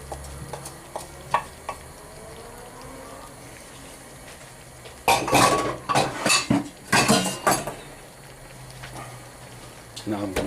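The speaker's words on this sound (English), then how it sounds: "So spread those around the pot." Quartered tomatoes are spread around a cooking pot with a utensil for vegan Bombay potatoes, giving clustered clinks and scrapes against the pot in a busy burst midway, with quieter ticks before and after under faint background noise.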